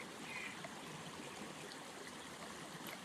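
Shallow river water streams and trickles steadily along the Manistee River as a water purifier is dipped in, a continuous close broadband wash with no talk.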